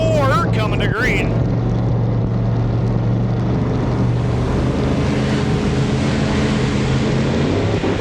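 Several late model race cars roar loudly and continuously as a heat race gets under way at The Masters on the CLS oval, heard from onboard the #28 car, with a voice cutting briefly over the engines at the start.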